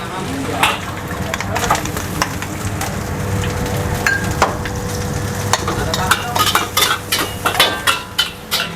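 Food fries and is stirred in a wok in a busy restaurant kitchen on a Sunday night, with continuous sizzling and repeated metal scraping and clanking of the utensil, growing quicker toward the end, with talk in the background.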